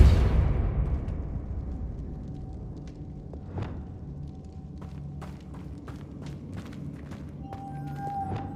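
Depulso spell cast in Hogwarts Legacy, a loud booming blast at the start that decays into a low rumble, followed by scattered thuds and footsteps.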